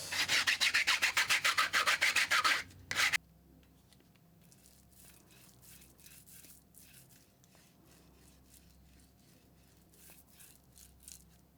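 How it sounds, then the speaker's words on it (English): Heavy sanding of a 3D build after metal rods were sawn off: a fast, loud run of rhythmic rubbing strokes, then a quieter stretch of faint, intermittent scraping and handling. "I had to saw off those metal rods and sand it down quite heavily."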